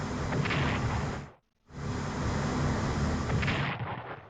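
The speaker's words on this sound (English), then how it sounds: "Bombard Santiago port." Artillery bombardment of a port in a Strategic Command American Civil War strategy game, heard as loud, sustained booming rumble with a brief silent gap in the middle.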